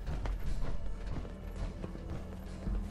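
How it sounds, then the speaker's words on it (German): Footsteps in Fallout 4, a rapid clattering, clip-clop-like patter of steps moving close by over a low rumbling game ambience, with no talk. "ich höre so Schritte"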